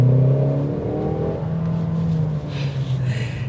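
A Mercedes-AMG GLB 35 with an inline-4 engine pulls hard and its loud, steady engine note rises as it accelerates, then gives way to lighter whirring road noise near the end, with no talking.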